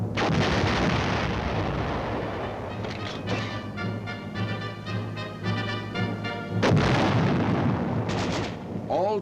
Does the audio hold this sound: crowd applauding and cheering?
no